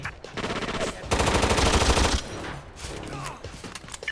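Automatic gunfire in the video game SOCOM Fireteam Bravo, rapid bursts of rattling shots, with one brief burst followed by a longer sustained volley up close, then fading into quieter battlefield ambience.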